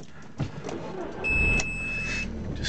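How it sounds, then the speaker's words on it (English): An Audi TT with 45,951 miles cranks and starts, a short whir giving way to a steady idle with a thin chime or beep sounding over it, heard from close inside the car. "Just start the car up."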